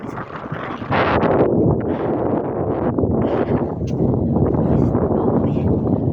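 Strong wind blows on a cold, frozen mountainside, buffeting the microphone in a loud, continuous roar that surges and eases without a break.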